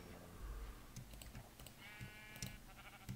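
Sheep bleats in a Minecraft game heard faintly among soft key clicks and light game sounds, with one wavering bleat standing out midway.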